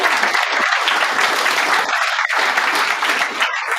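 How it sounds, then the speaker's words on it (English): A live event audience gives a big round of applause, steady dense clapping filling the whole stretch at close range with no talk over it. "big round of applause for Mike Saul from Bradford."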